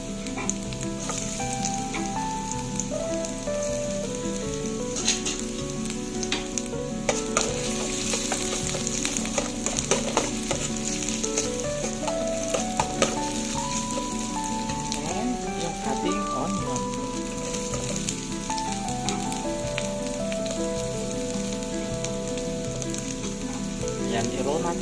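Ginger and garlic sizzle steadily in a hot pan for an okra curry, a dense, even crackle with occasional stirring clatter throughout, alone without talk.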